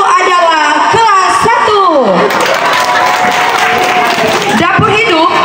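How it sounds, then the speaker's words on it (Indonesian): Applause and cheering from a crowd of children and adults at a school anniversary celebration for class competition winners, a loud continuous wash of clapping mixed with shouts and a voice over a loudspeaker. "Iya, berikan tepuk tangan yang meriah."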